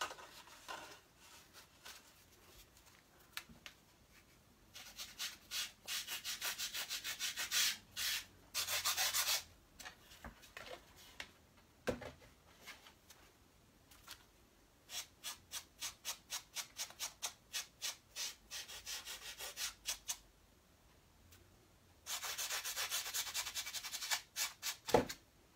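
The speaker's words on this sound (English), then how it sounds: "All I have to do is take an eraser and erase it." A rubber eraser rubs out pencil on paper in bursts of quick back-and-forth strokes, some long, some short, separated by pauses in a quiet room.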